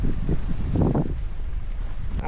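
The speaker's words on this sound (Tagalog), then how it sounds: "Ang lakas na rin ng hangin." Strong wind roars and buffets the microphone in continuous low gusts on an agricultural farm campsite, with a brief muffled surge partway through.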